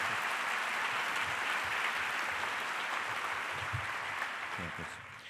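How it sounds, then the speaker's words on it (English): A large audience at a university convocation ceremony applauds its partners in education, a dense, loud and sustained wash of clapping that fades slightly toward the end. "please join me in a round of applause for our partners in education as well"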